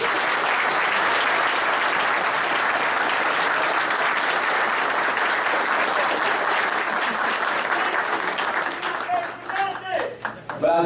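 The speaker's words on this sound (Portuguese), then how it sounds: "Quem concordar, por favor, aplauda." A convention crowd at a REDE party conference in São Paulo claps in a sustained dense roar in support of Marina Silva, then the applause thins and voices begin to chant near the end.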